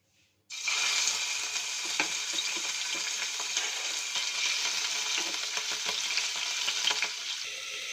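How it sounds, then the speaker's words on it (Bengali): Minced chicken dropped into hot oil in a kadai, bursting into a loud, sustained, spattering sizzle right after a brief quiet start, with faint stirring scrapes throughout. "তেলটা বেশ গরম হয়ে গেছে, এবার দিয়ে দেবো"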